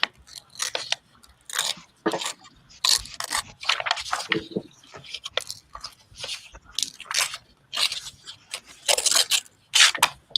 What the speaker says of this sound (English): I really want to fussy cut this butterfly. So I'm going to do a quick fussy cut.